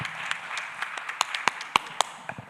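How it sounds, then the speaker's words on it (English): Scattered audience applause for speakers at a national trauma conference session, a thin handful of separate claps spaced irregularly over faint room noise, fading toward the end. "let us give another big round of applause to our gracious speakers"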